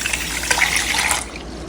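A glass of water is poured over sugar in a cooking pot for watermelon tutti-frutti, giving a close, continuous splashing gush that stops abruptly after about a second, leaving only quiet room tone.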